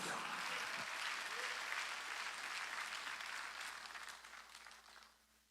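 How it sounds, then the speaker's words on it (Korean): Congregation clapping during a church sermon, a dense steady burst of many hands that holds evenly for several seconds, then fades away toward the end. "박수치라."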